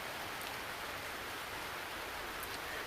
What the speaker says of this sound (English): The rain's picking up. I don't know if you could hear it on here, but I can definitely hear it on the roof.